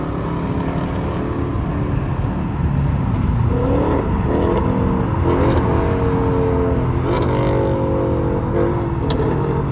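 A Dodge Charger R/T engine drones loudly throughout on a highway with rough, crackling bursts as its exhaust pops and burbles close by while it revs.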